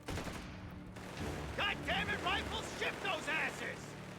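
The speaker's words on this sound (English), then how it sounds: "these guys are just getting shot to pieces by the machine gun" Machine gun fire rattles in the World War II strategy game Company of Heroes 3, heard as bursts of shots mixed with other battle sounds and a voice talking over them.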